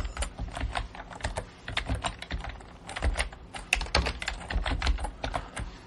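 Steady, fast typing on a computer keyboard as an article title is entered in a WordPress editor, with dense clicking keystrokes throughout and no voices.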